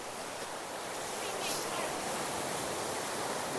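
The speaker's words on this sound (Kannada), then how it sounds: "ನೀವು ನೋಡ್ಬೋದು ನದಿದು ಸಿಕ್ಕಾಪಟ್ಟೆ ಸೌಂಡ್ ಇದೆ" Loud, rushing river water near Black Rock on a South Goa coast with heavy surf, filling the clip with a steady, close, broadband roar that never lets up.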